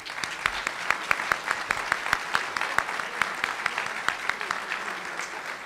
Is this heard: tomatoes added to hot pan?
no